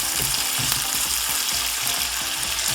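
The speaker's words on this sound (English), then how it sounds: "I'm going to let this saute for about 1 to 2 minutes before I add the channa" Onions, garlic, ginger, bay leaves and curry leaves sizzling in a pot for chickpea curry, a loud, dense, steady hiss with low stirring thumps throughout.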